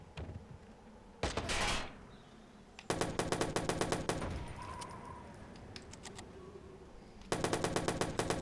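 Bursts of rapid automatic gunfire in the video game Watch Dogs, several rattling volleys separated by quieter ambient game sound, moderately loud, with no talking.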